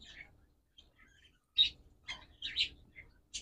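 A pair of pet birds for sale, sparse high chirps and tweets in short bursts with quiet gaps, close and fairly soft.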